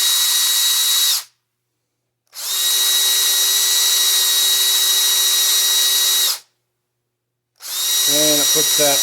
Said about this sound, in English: I happen to have this little needle nose drill here, or needle nose file.